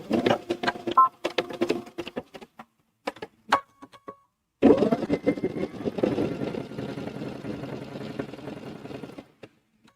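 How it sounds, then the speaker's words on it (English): A home sewing machine stitches through fabric for a zipper bag, first in short stop-start bursts and then in one long, steady, close run of rapid needle chatter that ends abruptly. "put my presser foot down and I'm going to sew"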